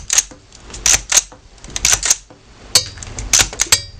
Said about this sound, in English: And we will now just release the bolt carrier catch.